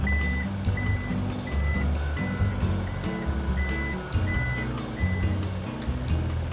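Repeated electronic beeps from a 2024 Toyota Prado LC250 as its power tailgate opens, a steady evenly spaced chime sounding about seven times over a low motor hum, close by.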